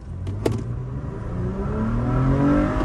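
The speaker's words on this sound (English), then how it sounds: "Try ripping into the throttle a little bit. Just let it go." Toyota Tacoma pickup with new gears and a tune, engine revving under full throttle uphill, a loud steady whine and growl climbing in pitch after a brief clatter near the start.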